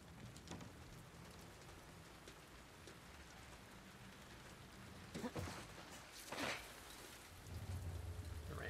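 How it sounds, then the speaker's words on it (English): Soft, steady rainfall in The Last of Us Part II patters throughout, with a few louder crackles and a low rumble building toward the end. "The rain sounds so nice."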